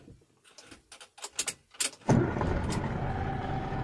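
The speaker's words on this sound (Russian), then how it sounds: "Давайте с самого начала заводим машину." Engine of a KAMAZ 43114 truck cranking and catching, then settling into a steady loud diesel idle after a few clicks and clunks from inside the cab.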